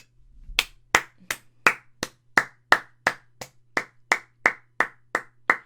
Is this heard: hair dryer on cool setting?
no